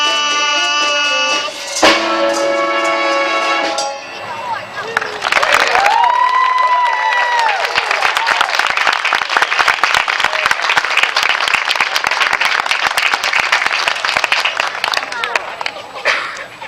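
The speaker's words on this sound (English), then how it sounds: "Let's have another round of applause" A community band's outdoor summer concert ends with sustained crowd applause and some cheering, dense clapping that swells after a closing musical chord and a voice, continuing loudly to the end.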